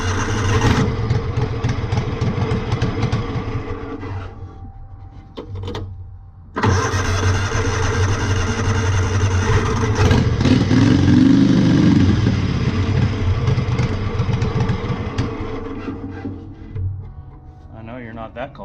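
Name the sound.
V-twin engine running on a Wheel Horse tractor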